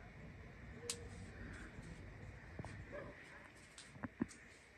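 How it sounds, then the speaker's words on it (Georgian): A dog barks a few times far off in a very quiet, still place, the faint yips carrying over a low background hush. "ისეთი სიწყნარი არის ძაღლის ხმა ისმის ყეფის."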